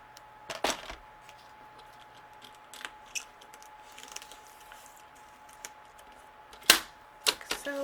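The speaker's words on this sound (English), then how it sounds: "I am going to use my trimmer" A paper trimmer slices scrapbooking paper into pieces in a quiet room, making scattered sharp clicks and slides. The two strongest cuts come close together near the end.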